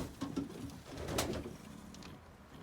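Racing pigeons coo softly inside a loft, low throaty calls rising and falling over a quiet background.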